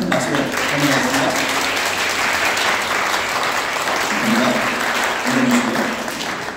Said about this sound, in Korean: 잠깐만 일어나 주시면 큰 박수로 환영하겠습니다